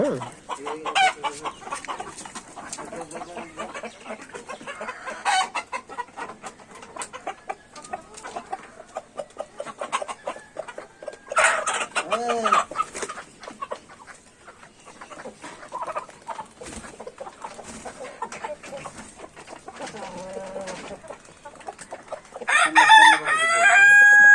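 Chickens at a poultry farm, a dense chorus of clucking and repeated rooster crowing that rises and falls, fairly close, with a louder burst of calls near the end and no clear talk.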